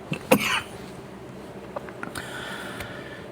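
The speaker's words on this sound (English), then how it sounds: "Still working this cough off." A single sharp cough rings out near the start, followed by quieter throat sounds over a steady background hiss.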